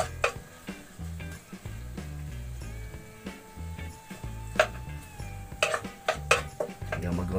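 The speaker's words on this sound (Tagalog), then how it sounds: "so gisa po natin ang ating sibuyas" Onions sauté in a pan as a wooden ladle stirs and knocks against it, with scattered clinks and scrapes over a soft sizzle, while background music plays.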